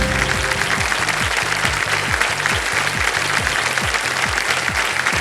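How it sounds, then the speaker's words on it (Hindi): A studio audience on a quiz show claps in loud, steady, sustained applause that fills the whole stretch without any talk. "इधर की जो जनता बैठी है ना, वो बहुत जोर से ताली बजा रही है"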